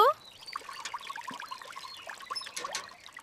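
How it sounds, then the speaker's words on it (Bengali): Water is poured and trickles over vegetables being washed in a village home, light splashes and drips continuing steadily, close and fairly soft. "সবজিগুলো ধুয়ে নেই তাড়াতাড়ি, কত বেলা হয়ে গেল।"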